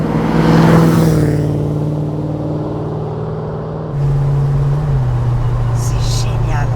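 A Mercedes 500 SEC from the 1980s accelerates from inside the cabin, its engine drone climbing steadily in pitch and shifting near the end, with people talking over the engine throughout.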